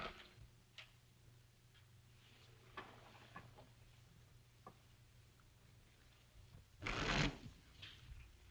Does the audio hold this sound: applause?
no